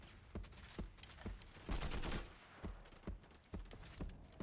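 Video game automatic gunfire crackles in repeated quick bursts, faint and distant-sounding, with one denser volley in the middle.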